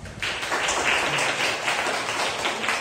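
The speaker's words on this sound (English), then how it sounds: "So let's give Mandy a big round of applause." After a speech evaluation, a room of listeners claps in a steady, moderately loud patter that continues for several seconds without pause.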